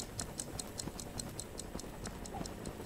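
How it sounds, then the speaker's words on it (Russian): Steady clock-like ticking from a planted bomb in a multiplayer shooter game, sharp regular ticks about five per second, quiet and alone with no talk. "Так, а что тикает?"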